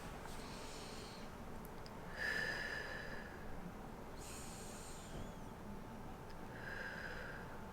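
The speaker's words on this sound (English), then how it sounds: "pause and take several slow and deep cleansing breaths" Four slow, deep breaths, each a long, soft, airy rush of inhaling or exhaling, spaced evenly with quiet pauses between, faint and close with no talking.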